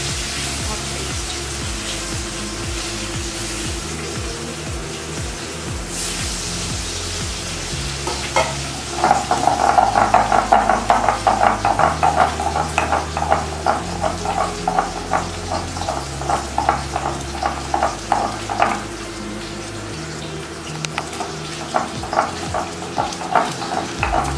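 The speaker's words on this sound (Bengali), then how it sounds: "আর এই মাছ ভাজাটা এইভাবে চলছে।" Fish frying in a pan, a steady sizzle that grows louder midway with brisk, rhythmic stirring and scraping, close and continuous with no talk.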